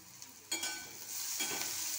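Egg curry ingredients fry in hot oil and crackle in a steady sizzle, with two louder bursts as a spatula stirs the pan. No one speaks.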